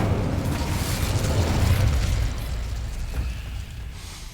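Incendio fire spell cast in Hogwarts Legacy, a broad roaring whoosh of flame that swells and then slowly fades, loud and close with no voices.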